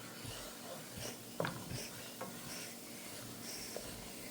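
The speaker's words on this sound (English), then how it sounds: "And then you gotta stir this up." Flour and oil are stirred together in a pan while browning for Kentucky-style brown gravy, producing a faint, steady scraping and soft sizzle with a few sharper utensil knocks, quiet and without speech.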